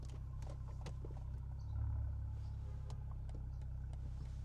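A car engine idles as a low, steady rumble inside the cabin while the car is parked, swelling briefly in a short rise before settling back, with faint clicks and no talking.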